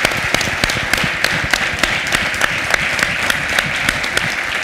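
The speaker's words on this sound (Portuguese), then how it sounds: "Yo pido un aplauso para él" A dense crowd applauds steadily at a talk on isolated Amazon communities, with many overlapping hands producing a loud, continuous clatter that keeps an even intensity throughout and has no voices above it.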